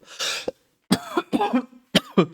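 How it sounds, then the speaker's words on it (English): A person coughs in several harsh, hacking bursts with short pauses between them, close and loud, with some throat clearing and no speech. "I did not expect that I would be coughing this much today"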